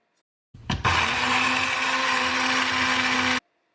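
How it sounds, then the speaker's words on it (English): An electric coffee grinder grinds oats into powder in one loud, continuous, high-pitched whir lasting about three seconds. It starts abruptly, cuts off sharply and is heard alone at close range. "You just need to put oats in a coffee grinder and then grind."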